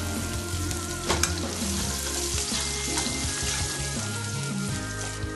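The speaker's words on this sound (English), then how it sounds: "saute it off until it's nice and golden." Ocean trout sautés in a hot pan, giving a steady, close sizzle and crackle with a few brief stirring clatters and no talking.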